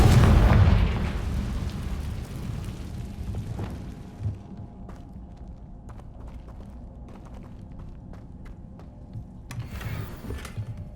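Confringo blasting spell from Hogwarts Legacy: a heavy, booming explosion right at the start that decays into a low rumbling tail, with a later smaller burst and scattered crackles.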